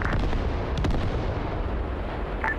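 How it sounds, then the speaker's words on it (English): A rocket strike explodes at a distance, giving a deep rumbling boom that rolls on and fades, with a couple of faint crackles near the end. "that rocket's dropping on it"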